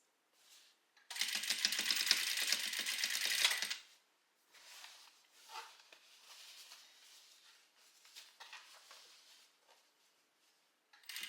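A sewing machine runs in one dense burst of about three seconds stitching a denim skirt made from jeans, followed by quieter scattered clicks and handling of the fabric.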